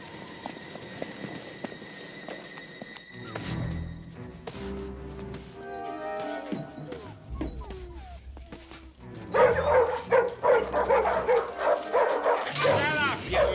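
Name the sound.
dogs barking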